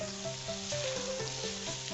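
Ground spice paste fries in oil with coriander and cumin powder for a green chicken curry, a soft, even sizzle with a faint rhythmic tonal hum running underneath, no talking.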